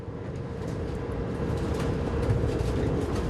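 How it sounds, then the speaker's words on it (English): A regional train ride in Germany heading to Dresden gives a steady low rumble and rolling noise from inside the carriage, continuous and slowly building, with no speech. "It's an hour and a half by regional train."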